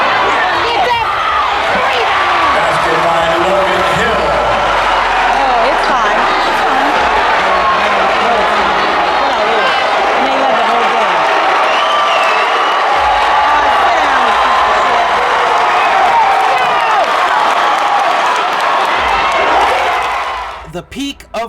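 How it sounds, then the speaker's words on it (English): A large crowd at a high school basketball game in a civic center roars and cheers continuously, loud and dense, with shouts and whoops throughout before fading abruptly at the end. "It's a great crowd."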